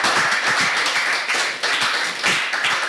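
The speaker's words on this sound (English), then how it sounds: "A round of applause." A live audience at a Nigerian youth debate event applauds a judge coming forward, a dense, steady wash of many hands clapping close by for nearly three seconds, with no talk over it.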